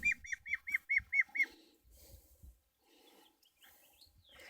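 Waterfowl on a muddy permaculture farm give a quick run of six honking, quacking calls in a steady rhythm, close and loud, then fall to scattered softer sounds and faint rustling.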